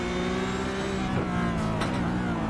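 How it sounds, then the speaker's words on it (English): Porsche Cup race car at the Belle Isle street circuit with brake-entry understeer, its steady engine drone carrying throughout while brief tyre scrubbing sweeps mark the car sliding in the corner. "Hoogendoorn with a little bit of brake entry understeer there. You could hear it on the car sliding."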